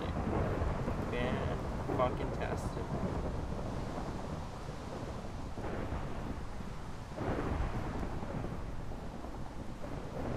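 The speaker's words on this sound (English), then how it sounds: "Oh great, it's raining." Steady rainfall with deep rumbles of thunder in the Minecraft server Minez, a continuous wash of rain throughout with a few heavier rolling swells, a voice speaking briefly over it.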